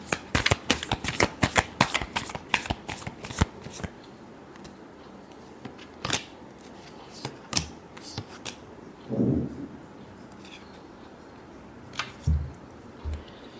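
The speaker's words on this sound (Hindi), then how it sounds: "Last shuffle." Tarot cards are shuffled in quick, crisp riffling bursts up close, followed by sparser single card slaps and flicks.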